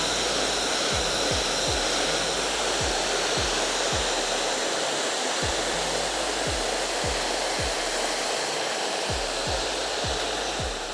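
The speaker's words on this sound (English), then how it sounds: "That's the blow dry complete" A hair dryer blowing hair over a round brush for a '90s volume blow-out, a loud continuous close whoosh holding steady throughout, with faint rhythmic low ticks beneath it and no speech.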